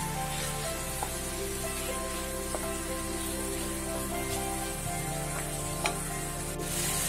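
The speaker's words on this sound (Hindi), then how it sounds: "ये जो टमाटर लिए हैं मैंने बारीक कटे हुए वो डाल देते हैं" Finely chopped tomatoes fry in oil in a pan over a medium gas flame, making a steady, moderate sizzle with a low hum underneath and a few faint clicks. There is no talking.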